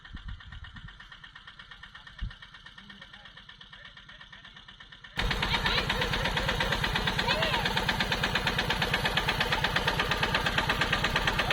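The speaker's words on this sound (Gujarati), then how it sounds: "ભાઈઓ ટ્રેક્ટર લઈને આવે છે" A tractor engine idles quietly at first, then grows much louder and chugs steadily and rhythmically as it runs close by, with people talking over it.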